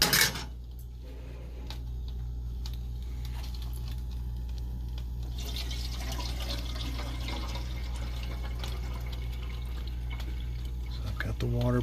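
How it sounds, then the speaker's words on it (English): Water pouring into the top reservoir of a Bunn VPR Series commercial coffee maker, a steady trickling and splashing stream under a low hum, running continuously for several seconds. "The water poured in."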